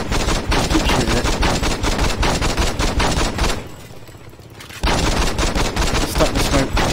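Loud, rapid automatic gunfire in the video game Saints Row 2 rattles in dense bursts, breaks off for about a second, then resumes.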